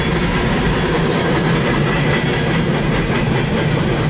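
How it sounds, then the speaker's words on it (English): A long CN manifest freight train with gas tank cars rolls past near MacMillan Yard, loud and close, its wheels keeping up a continuous rhythmic clickety-clack over a heavy rumble, with no voices. "Yeah, it's a pretty long one too."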